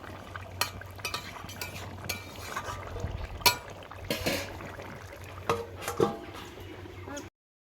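Pieces of fish go into a simmering fish curry with potatoes in a pan, with quiet wet plops, soft stirring and a few sharp clinks over a low, steady bubbling hiss.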